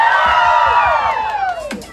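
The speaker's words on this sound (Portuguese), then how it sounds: "Quem acha que foi a Carla, dá um grito aí" A street crowd at a Brazilian comedy outing shouts and cheers loudly all at once, a burst of overlapping voices and whoops that sustains, then tails off near the end.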